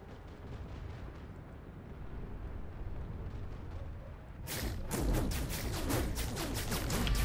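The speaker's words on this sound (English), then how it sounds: "With one rocket, I just killed two tanks" Rocket explosions tear apart two tanks in the online shooter Planetside 2, a steady rumble of battlefield noise giving way to a burst of loud, rapid blasts and crackling impacts near the end.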